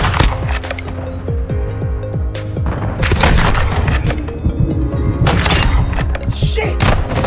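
A grenade explosion in the Call of Duty video game, heard as loud, heavy booms and thuds within a continuous, dense din of gunfire and battle noise.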